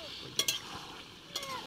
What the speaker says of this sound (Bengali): গরম জল ঢেলে দিচ্ছি।